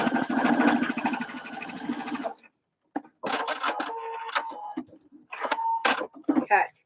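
A sewing machine stitches a fabric bucket hat in several quick motor bursts separated by short pauses, with a person talking over the first part.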